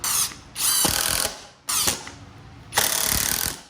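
A SKIL PWRCore 20 impact driver on its high setting drives screws into wood in three close, loud bursts of rapid hammering rattle separated by short pauses.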